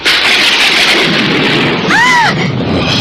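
A thunderclap in a period drama rolls as a loud, sustained rumbling roar filling the whole clip, with a brief rising-and-falling whoosh near the end.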